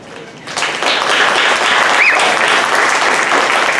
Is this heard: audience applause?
yes